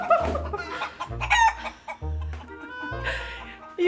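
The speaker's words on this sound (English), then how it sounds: "You've got an escapee chicken." Chicken that escaped and was found at a beach, now at a vet clinic, clucking in several short bursts up close, with low thuds between calls.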